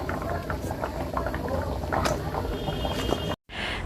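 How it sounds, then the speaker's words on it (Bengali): Rice boiling in a pot, a steady close bubbling and simmering that continues throughout, with a brief cutoff near the end. "এই যে ভাতটা প্রায় সেদ্ধ হয়ে এসেছে"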